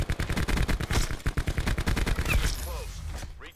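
Rapid gunfire rattles in Black Ops 4, a dense string of close, sharp shots in quick bursts that thin out and stop near the end, with brief game chatter after.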